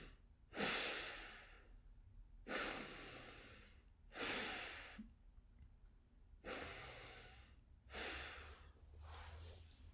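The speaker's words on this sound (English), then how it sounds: "deep breathe so that you take the deep inhale and exhale while in that position" Five slow, deep breaths taken while lying in a prostration position, each a long airy inhale and exhale at close range with regular pauses between them and no talking.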